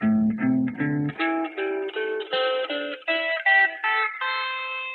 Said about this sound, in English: So if I play the pentatonic scale, it looks like this.